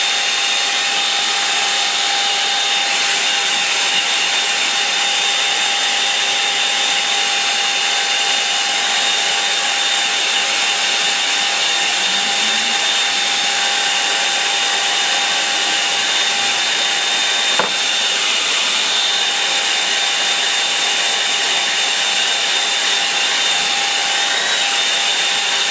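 A hair dryer blows steadily on wet watercolour paint, a continuous loud whooshing hum with a faint whine that holds unbroken throughout, with no talking.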